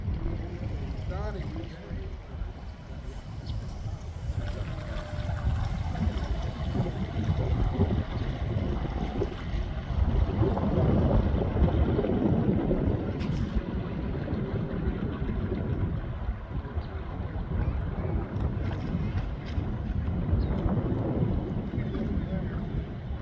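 Large RC boat named Thunder, the biggest in a family's fleet, running on a lake, its motor a steady broadband drone over wind buffeting the microphone, with a voice talking over it.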